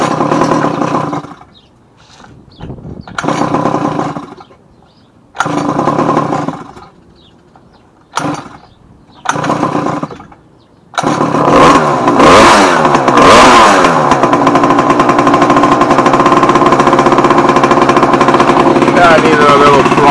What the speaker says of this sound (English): Yeah, it's idling now, so at this point everything's ready to go. So we'll give it another pull